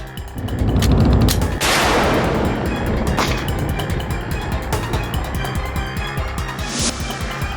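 Several sharp, loud gunshots crack out at uneven intervals, one near the start and others spread later, over a rough, noisy background in a Hindi courtroom drama's shooting of Aryan.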